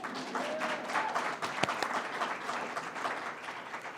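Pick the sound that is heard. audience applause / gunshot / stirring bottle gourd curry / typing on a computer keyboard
audience applause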